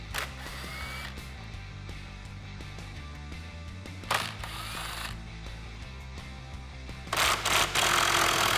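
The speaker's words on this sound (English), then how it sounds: "I'll just take my 10mm socket and remove the nuts" A 10mm socket ratchet clicks and whirs while grille nuts are backed off a 2018-2020 Ford F150 grille, loud and close over a steady mechanical hum, with a sharp burst of clatter near the end.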